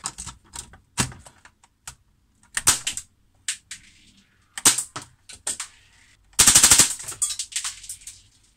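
HPA-powered airsoft G36C, a 3D-printed homemade build with a trigger fault, fires sharp single shots and short bursts, with gaps of quiet between them and one longer rapid string near the end.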